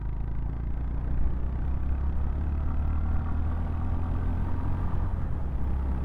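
A 2025 Honda GB350S motorcycle engine running in second gear, a steady low rumbling drone heard from the rider's position, even and continuous with no speech.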